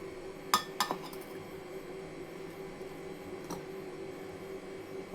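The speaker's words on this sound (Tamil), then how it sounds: "மிக்ஸி ஜாரில் தக்காளியை கட் பண்ணி வச்சுருக்கிறத போட்டுக்கோங்க." Cut tomatoes drop into a mixer jar with a couple of quick clinks and knocks close by, then a softer clink follows over a quiet background hum.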